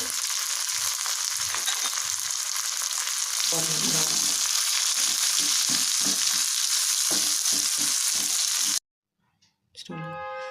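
Mustard seeds, peanuts and urad dal fry in hot oil for pulihora pachadi, giving a loud continuous crackling sizzle with scattered pops and stirring scrapes that cut off briefly, then resume.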